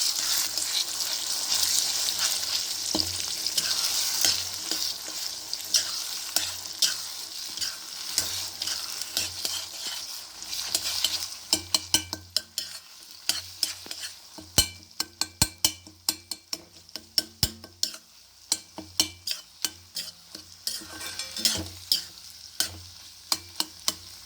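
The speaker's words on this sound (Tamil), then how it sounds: "இப்போ இந்த மாதிரி முட்டையை உடச்சி ஊற்றிக்கோங்க ஃப்ரெண்ட்ஸ் இப்படியே ஒரு ரெண்டு நிமிஷம் இருக்கட்டும்" Beaten eggs fry in an oiled pan for an Andhra-style onion egg curry, a loud steady sizzle at first that fades into repeated sharp scraping and tapping as a spoon stirs and breaks them up.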